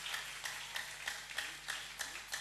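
A church congregation claps together during worship, a steady run of rhythmic handclaps at about three per second, moderately loud and even, with a faint low hum beneath.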